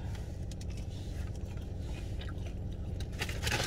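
Someone bites into and chews Burger King ghost pepper chicken nuggets close up, with soft crunching and moist chewing over a low rumble of background noise, like a car interior.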